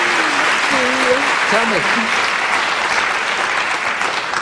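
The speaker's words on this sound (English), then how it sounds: "Is there applause now?" Studio audience applause on a 1990 British talk show, a dense steady wash of clapping with a voice briefly over it near the start.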